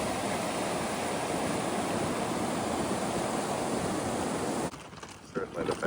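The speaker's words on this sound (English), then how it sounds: "This is what the rapids were like the previous night." Loud, steady roar of river rapids rushing past a small 7 ft rowboat in grizzly country, a dense wash of water noise that cuts off abruptly near the end, leaving quieter splashes.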